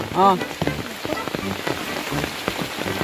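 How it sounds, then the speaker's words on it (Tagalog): Steady rain patters on a surface at a mountain home in Masbate, where piglets splash about in the downpour; a near, continuous hiss sits under scattered voices and brief animal calls. "Mga biik naliligo sa ulan."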